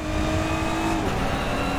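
Steady race car engine drone in the RaceRoom racing game at Spa, GT4 and TCR cars, a continuous loud tone with a rival's car running close behind, no talk over it.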